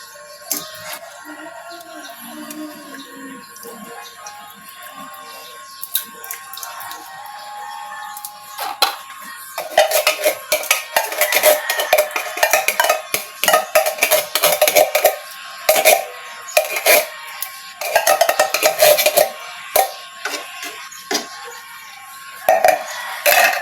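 Maja blanca mixture with cracked corn stirred in a metal pot: quiet at first, then repeated clinking and scraping of a utensil against the pot, rapid and uneven, close and clear, with no talking.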